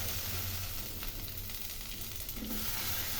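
Onion, green chili and nigella seeds fry in a little oil, giving a quiet, steady sizzle close by with no talk.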